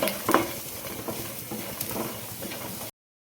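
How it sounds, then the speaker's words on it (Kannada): A large amount of garlic frying and being stirred in a pan, a steady close sizzle with scraping stir sounds, continuous for about three seconds before cutting off. "ಒಂದು ದೊಡ್ಡ ಗಾತ್ರದ ಬೆಳ್ಳುಳ್ಳಿ ತೊಗೊಂಡಿದ್ನಲ್ಲ ಅದನ್ನು ಹಾಕ್ತಿದ್ದೀನಿ ಇದನ್ನು ಸ್ವಲ್ಪ ಫ್ರೈ ಮಾಡ್ಕೊಳ್ಳೋಣ"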